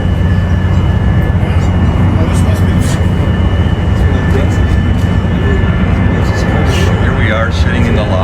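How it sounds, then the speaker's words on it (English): A Lufthansa airliner passes near Frankfurt, heard from a river cruise ship in a lock, as a loud continuous jet roar with a faint whine that holds steady throughout. "watching the planes go by. Another Lufthansa."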